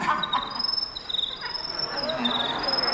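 A voice actor imitates crickets at an American Dad panel at San Diego Comic-Con. Thin, high, steady chirping trills run through the clip over a faint room hum.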